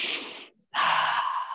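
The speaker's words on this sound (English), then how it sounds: "I'm panting for you" A fitness instructor breathing hard during a low-impact workout, two strong breathy exhales or pants separated by a short silence, close and loud with no talking.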